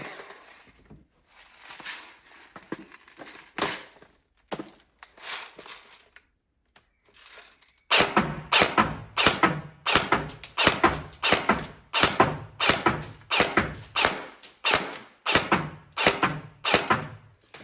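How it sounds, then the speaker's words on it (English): A Tokyo Marui SGR12 airsoft shotgun fed from a drum magazine, firing in a sparse irregular string of sharp thuds with gaps where it misfeeds, then a fast steady run of loud repeated shots. "So we shot about 8 shots there, if you know what I mean, then 2 misfeeds, and then obviously back to shooting again."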